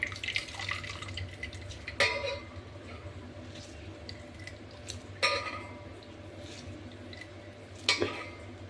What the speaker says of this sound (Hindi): अब इसका पानी अच्छी तरह से निचोड़ लेते हैं